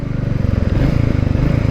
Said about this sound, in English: when I rev it, it's just a slow revving motor, which is nice.